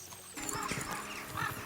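Horses gallop in the medieval video game Kingdom Come: Deliverance 2, a steady rush of hoofbeats and movement noise, close and fairly loud, with no talk over it.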